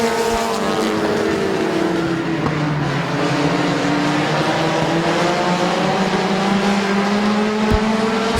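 Several race cars roaring together around the oval at Midvale Speedway, engines droning steadily with rising and falling pitch as the pack passes, loud and continuous throughout.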